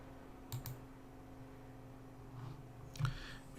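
Computer keyboard keys are pressed during Blender modelling work, a few soft isolated clicks spaced over a quiet room hum, close and faint, with no talk.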